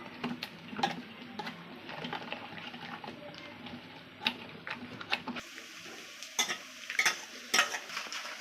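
Soaked tamarind is mashed in hot water in a kitchen, giving wet squelching and stirring sounds with irregular clicks and taps of a utensil against the vessel, close and fairly quiet.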